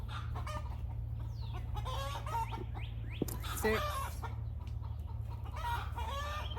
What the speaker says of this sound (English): The birds are alarming. That's not a normal crow.